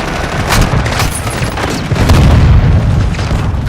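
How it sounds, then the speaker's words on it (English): Mortar strike explosions in a military video game, a continuous heavy rumble of loud booms and blasts filling the whole stretch, swelling louder toward the end. "Friendly mortar strike inbound."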